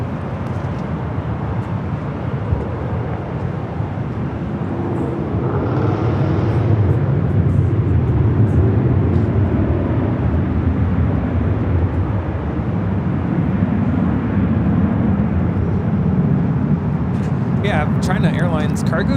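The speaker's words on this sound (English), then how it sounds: "China Airlines cargo 777 freighter lighting up on the radar, taking off to Taipei" China Airlines cargo Boeing 777 freighter taking off from Los Angeles International Airport, a broad jet roar that swells and holds steady in the distance while people talk over it.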